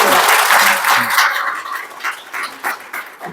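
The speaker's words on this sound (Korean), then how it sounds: "우리 김진영 교수님께 다시 한번 큰 박수 부탁드립니다" A lecture audience at a special talk applauds a KAIST professor, a burst of loud clapping that quickly tapers into a few scattered claps.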